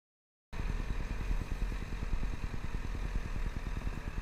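A motorcycle engine starts up after a moment of silence and keeps running with a steady rapid putter, close and moderately loud, while the rider downshifts into first gear on a practice loop.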